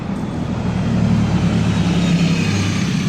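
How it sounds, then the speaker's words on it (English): The number 40 bus to West Brom rolls past close by, its engine drone swelling and holding steady for a few seconds before easing, with no voices over it. "that's the number 40 bus to West Brom"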